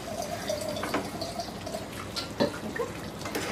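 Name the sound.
water poured into chicken curry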